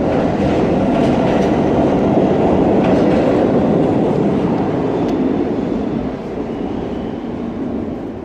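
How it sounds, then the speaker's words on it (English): An NYC subway Budd R-32 train pulls out of the station with a loud, continuous rumbling roar of wheels and motors that slowly eases off. "the R-32 on this side coming out of the station"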